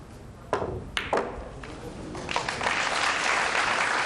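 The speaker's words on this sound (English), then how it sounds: "an appreciative round of applause there from obviously the Wu fans in the crowd" A crowd at the 2005 World Pool Championship final breaks into a steady round of applause that builds and holds near the end, after a few sharp clacks of pool balls colliding on the table.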